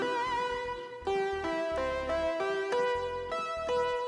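Sustained synth keyboard tones hold steady chords and notes with a bright, rich harmonic buzz, changing pitch every half second or so with no talking.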